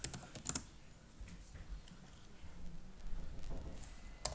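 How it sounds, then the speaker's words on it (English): Someone types a terminal command on a computer keyboard, a quick run of soft key clicks in irregular bursts, close and fairly quiet, with a couple of sharper taps at the start and end. "type in sudo apt install plank, hit enter, punch in your password"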